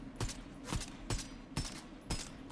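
Gunfire in a shooter video game: four sharp, evenly spaced shots about half a second apart, each a loud broadband crack with a short tail over a low steady background hum.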